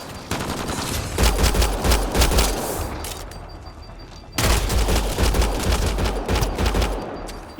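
Rapid pistol and assault rifle gunfire in the sci-fi shooter Mass Effect Andromeda, loud dense bursts of overlapping shots that pause briefly near the middle and then resume just as heavily.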